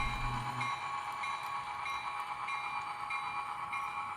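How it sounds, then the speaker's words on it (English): A model train pulls into a railroad yard with its bell ringing, steady bright bell tones over continuous low rumbling throughout, fairly close and alone. "Train comes in, hits the bell."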